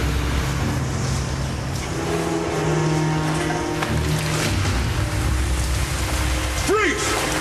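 Steady rain falls outdoors as a broad, constant hiss with a low rumble beneath, loud and unbroken throughout, with a brief faint voice or tonal sweep near the end.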